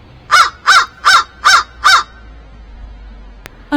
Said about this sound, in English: Here comes a second crow.